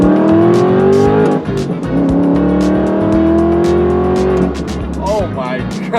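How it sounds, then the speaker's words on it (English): A supercar's engine revs hard on a winding driving road, rising gear-by-gear pulls with shifts between them and crackles near the end, loud and close, with someone talking over it. "Best sounding car I have ever owned by a country mile."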